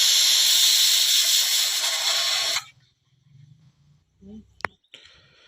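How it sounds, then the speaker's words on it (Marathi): Water comes to a rolling boil in a pot for Khandeshi dal batti, a loud steady hissing rush that cuts off abruptly, followed by quiet with a few faint clinks and a short thud. "पाण्याला उकळी आलेली बघा इकडे पाण्याला आता उकळी आलेले आहे"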